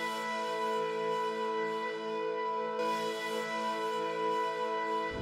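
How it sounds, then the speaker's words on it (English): A sustained synthesizer pad, the Mournful Drone preset from Omnisphere's Moog Tribute library, holds a dense, steady drone of stacked tones throughout with no fade, alone and without talk. "I also added a little pad from Omnisphere, and it's this one right here, also from the Moog Tribute."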